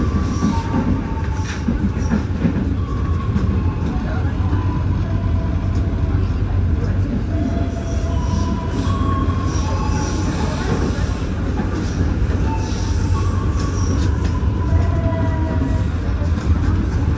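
A diesel-locomotive passenger train, the Brawijaya from Jakarta to Malang, rumbles along steadily with a loud, continuous roar, wheels clattering and occasional squealing over the tracks, with no pauses.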